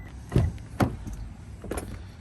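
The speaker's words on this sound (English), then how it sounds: "So you can actually hear the car locking and unlocking." A 2022 Toyota RAV4 Hybrid Limited locking and unlocking: a few short mechanical clunks and chirps from the door locks, with a brief whir between them, heard close by with no talk.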